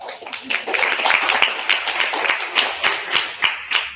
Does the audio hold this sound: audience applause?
yes